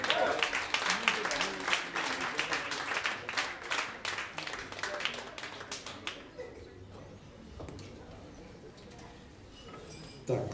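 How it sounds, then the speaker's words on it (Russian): Audience at a concert breaks into clapping, crisp irregular hand claps that are fairly strong at first, then thin out and fade to a sparse patter near the end before a brief final burst. "Аплодисменты!"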